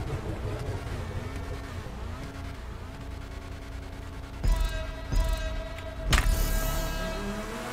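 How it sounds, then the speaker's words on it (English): Cars in GTA 5 Online idle and rev at a race start, a steady engine hum with wavering pitch, followed by several louder revving bursts near the end. "Whoever's revving their engine doesn't know how to get the fast start"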